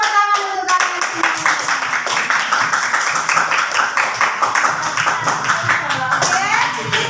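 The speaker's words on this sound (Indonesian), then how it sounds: "Tepuk tangan untuk kalian semua." Class of children clapping in a classroom, a lively sustained burst of many small hands clapping, with voices and chatter mixed throughout.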